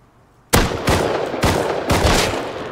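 Loud, close gunshots in a zombie-server Rust game: three or four sharp, heavy blasts spaced about half a second apart, each with a short ringing tail, after a near-silent start.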